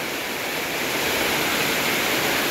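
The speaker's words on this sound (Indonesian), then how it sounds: "Hujan disertai dengan angin." A broad, constant hiss of heavy rain whipped by strong wind, building slightly and continuing unbroken with no talking.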